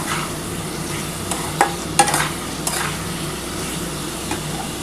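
Soybean curry with potato and papaya is sautéed in a pan with a splash of water, giving a steady sizzle and a few distinct spatula scrapes and knocks against the pan.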